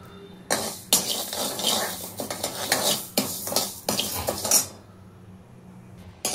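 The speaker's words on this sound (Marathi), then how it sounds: "जे आपण तांदूळ घेतले आहेत ते थोडेसे भाजून घ्यायचे आहे।" Rice dry-roasting in a pan, stirred with a metal spoon, makes repeated scrapes and clinks over a soft crackle for about four and a half seconds before falling nearly quiet.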